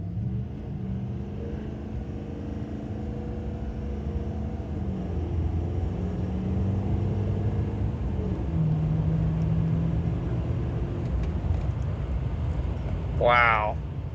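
An L5P Duramax diesel pickup with Edge Evolution HT2 emissions-compliant tuning pulls hard from a standstill: a loud, steady diesel drone climbs through several gear shifts, and a brief high chirp rises near the end.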